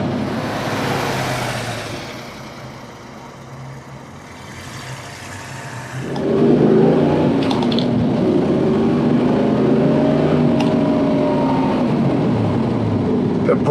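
An original 1970 Ford Boss 302 with a shaker hood and rebuilt small-block engine drives past, its rumble fading briefly and then surging loud and close into a steady, throaty roar that continues without speech.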